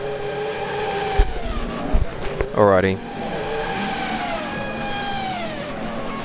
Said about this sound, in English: It sounds like there's a lot of cars on track right now